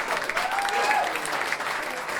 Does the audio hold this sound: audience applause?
yes